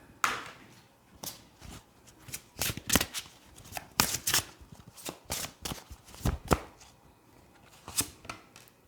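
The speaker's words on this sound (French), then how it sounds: "Donc je vais vous tirer 3 cartes." Oracle cards being shuffled and drawn in a tarot-style reading, a run of crisp riffling and slapping bursts in an irregular rhythm, close and fairly quiet with no talking.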